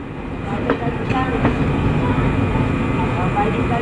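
A diesel-hauled Circar Express train rumbling along the rails between Kakinada and Vijayawada with a steady low roar and occasional metallic clicks; a voice is faintly audible underneath.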